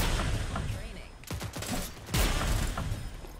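Gunfire in the Rogue Company video game, loud bursts of rapid shots crackling over a dense, noisy game mix, with two distinct volleys in quick succession.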